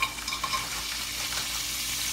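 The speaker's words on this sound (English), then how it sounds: "And we want that sizzle." Steady hiss of food sizzling in hot oil, continuous and fairly close, with no voices.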